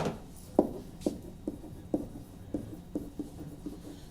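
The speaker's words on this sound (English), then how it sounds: "I'll write it for you" Chalk or marker strokes on a classroom board during a chemistry lesson, a steady run of about nine short tapping scrapes spaced roughly half a second apart, close and fairly quiet, with no talking.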